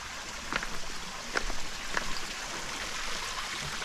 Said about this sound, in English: nice relaxing sound of falling or flowing water or creek